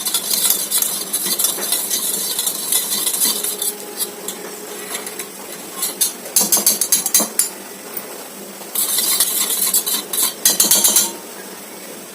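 A spoon stirs food with ghee in a pan, scraping and clinking against the metal in bursts over a soft sizzle, close and fairly loud, with no talking.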